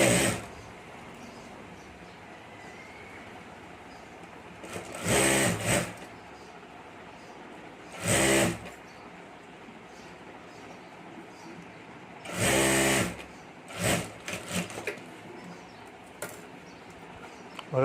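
A sewing machine stitching a handmade boho handbag runs in three short bursts with quiet pauses between, followed by a few brief clatters near the end.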